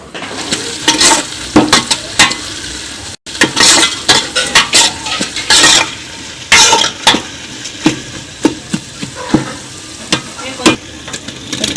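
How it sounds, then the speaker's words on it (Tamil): Bay leaf, coriander and mint leaves sautéing in a hot pan, with a steady sizzle broken by repeated scrapes and clinks of a spoon stirring against the metal, close and fairly loud, with no talking. "கொத்தமல்லி, புதினா எல்லாம் தழையும் வந்து இப்போ நம்ம போட்டு வதக்கிக்கணும்."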